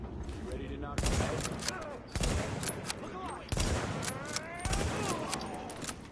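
Sniper rifle fire in The Division, four loud sharp shots spaced about a second apart, each with a ringing tail, set against constant game ambience and chatter.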